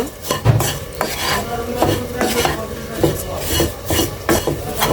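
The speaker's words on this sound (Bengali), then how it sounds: "গুঁড়া দুধটা দিয়ে আমি ভালোভাবে মিশাই নিব।" Spoon stirring powdered milk into fried raisins and vermicelli in a pan for Eid semai, with close, repeated scraping and rubbing strokes and light clinks of metal on cookware.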